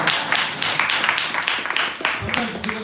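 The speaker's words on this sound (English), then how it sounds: "give an round of applause." A gathering at a devotional discussion breaks into a round of applause, a dense patter of clapping heard under a man's continuing speech.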